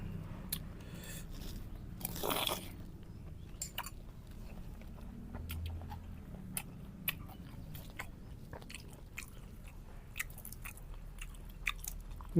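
Crunchy raw vegetables dipped in spicy seafood sauce being bitten and chewed close up, with a sharper crunch around two seconds followed by soft, repeated mastication clicks over a low background hum.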